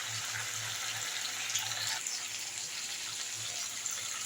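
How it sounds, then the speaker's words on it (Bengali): Water poured into a cooking pot of mutton curry in a home kitchen, a steady continuous splashing stream at close range with a faint background hum. "একটু জল দিয়ে দেবো।"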